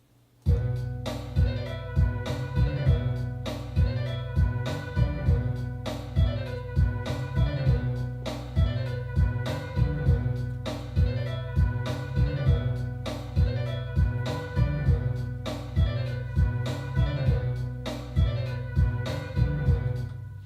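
A layered beat with violin and piano over steady pounding drums loops in an even, repeating rhythm, full and continuous, with no talking.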